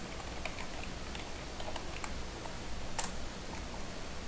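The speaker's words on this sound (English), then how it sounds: "here is where I will type in the product details" Light, irregular keystrokes on a computer keyboard enter product details, soft clicks against a steady background hiss.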